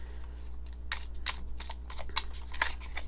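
Tarot cards are shuffled close by in a run of crisp, irregular riffling bursts over a low steady hum, with no talking.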